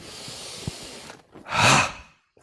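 A single deep inhalation during laughter yoga breathing, a strong rushing breath drawn in close to the mic after a brief quiet pause, with soft faint breathing before it.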